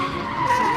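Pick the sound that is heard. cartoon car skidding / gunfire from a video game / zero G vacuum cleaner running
cartoon car skidding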